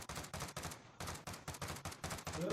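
Rapid gunfire in a shooting video game, a string of about a dozen sharp, evenly spaced bursts in quick rhythm, fairly close and without speech over it.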